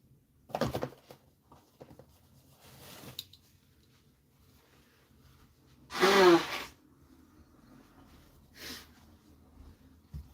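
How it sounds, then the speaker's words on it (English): Two or three short breathy bursts come first, then one loud blast of blowing a runny nose after repeated sneezing, followed by a softer sniff and quiet room noise. "blow my nose, I just sneezed a bunch"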